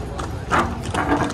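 Horse hooves clip-clop as a horse pulls a tourist carriage through the Marrakech city centre, in a steady rhythmic series of close, moderately loud beats.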